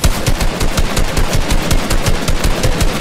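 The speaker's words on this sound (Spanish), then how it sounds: "Le hita y le dispara." Rapid automatic gunfire in Fortnite rattles out loud and close, a steady stream of shots in quick rhythmic bursts without pause.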